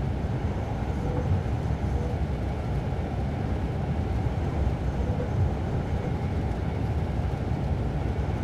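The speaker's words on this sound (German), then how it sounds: "Der Steuerwagen macht sich selbstständig." A train's control car rolls through the Salzburg scenario of Train Sim World 4, having started moving on its own. It gives a steady, loud, low rail rumble that carries on evenly throughout, with no talking.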